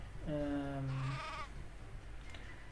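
A sheep in Craft The World gives a single clear, wavering bleat, close and loud over a low game background, followed by quieter ambience.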